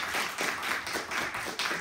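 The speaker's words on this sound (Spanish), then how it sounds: "Por favor, démosle un fuerte aplauso y recibamos bien." An audience applauds to welcome a guest speaker at an experimental biology week event, giving steady, dense clapping close by that swells in a few waves with no talk over it.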